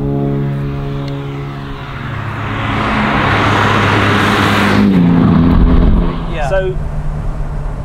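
A 1972 BMW 3.0 CSL drives along open country lanes, its engine note rising and swelling loudly with wind rush before easing, while people talk over the continuous drone.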